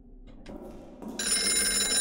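A telephone rings in the horror game Golgotha, set in a haunted subway; a bright electronic ring starts after a brief rustle and sounds loud and close.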